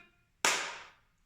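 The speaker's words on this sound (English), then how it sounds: "That was a clap, not a click." A single sharp hand clap cracks out in a quiet room, loud and crisp, then fades quickly with a brief room tail.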